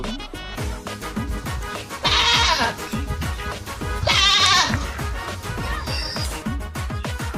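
A goat brought to a village market for sale bleats in short, sharp calls, with two clear bursts and a fainter one later, over a steady rhythmic background clatter and faint voices.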